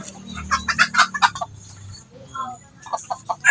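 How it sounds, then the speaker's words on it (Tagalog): A rooster crows loudly and close by, with a second, shorter crow following after a brief pause. "Gandang tilaok na ito"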